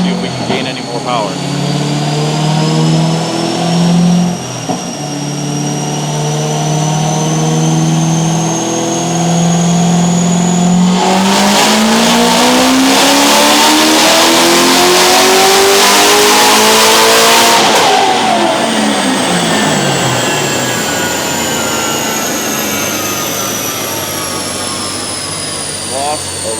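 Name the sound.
Corvette ZR1 engine revving during a dyno pull on E40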